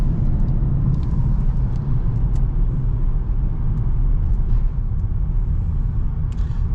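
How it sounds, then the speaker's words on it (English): A 2015 Ford Explorer police package on a road test drive gives a steady, loud low rumble of engine and tyre noise throughout, with no pauses and no talking. "we're just gonna take you on a little test drive here"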